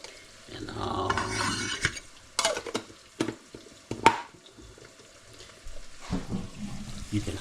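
Garlic and onions fry in butter ghee in a home kitchen, a soft sizzle broken by a series of sharp spoon scrapes and clanks against the pan, with brief quiet gaps.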